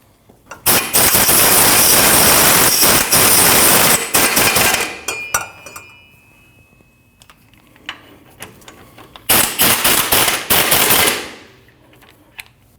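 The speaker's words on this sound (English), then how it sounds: "Now you can tighten your two bolts." An impact wrench tightening rear brake caliper bolts on a Nissan NV2500, two loud sustained rattling bursts separated by quieter clinks and silence.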